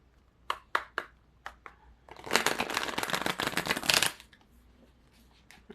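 Tarot cards riffled by hand: a few quick separate flicks, then a dense, loud two-second shuffling burst, followed by faint scattered card taps, close and with no talking.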